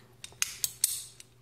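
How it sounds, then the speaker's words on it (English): A ratcheting PVC pipe cutter snaps through PVC pipe in a few sharp, close clicks and crunches spaced unevenly over a second, with quiet gaps between strokes. "You basically keep pumping it until it goes through the PVC pipe"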